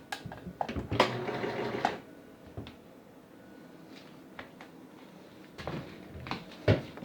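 Brother XL 3010 free arm sewing machine run by foot pedal, with short close mechanical bursts of stitching and clicks broken by quiet pauses.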